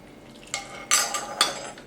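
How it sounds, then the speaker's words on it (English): A cheesy, creamy mixture poured from a pot over a potato bake in a dish, heard as a few clinks and scrapes of cookware with soft wet sloshing, close and moderately loud, with no talking. "pour this beautiful cheesy creamy mixture over the top of the"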